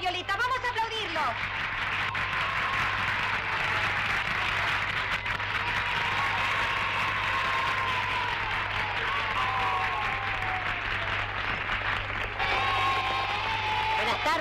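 Children applaud the clowns Totón and Carlitos Altaviolita at a lively kids' show, a steady wash of clapping lasting throughout, mixed with excited young voices shouting and cheering.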